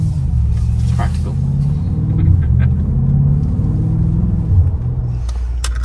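A Porsche engine in sport mode rumbles low and steady from inside the car, swelling slightly at moments, while people talk over it.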